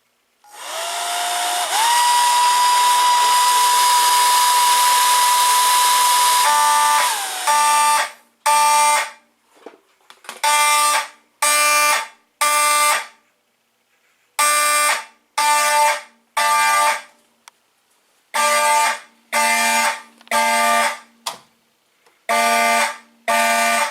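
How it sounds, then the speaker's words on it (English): A blow dryer hums steadily while heating a heat detector, then a loud electronic alarm blares continuously before breaking into repeated short beeping bursts. "I'll now demonstrate the heat detector by using a blow dryer."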